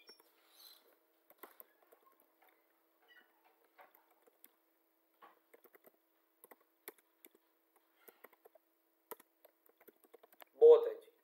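Student names are typed into an Excel sheet on a computer keyboard: sparse, quiet key taps in short irregular bursts over near silence, ending with a brief louder sound.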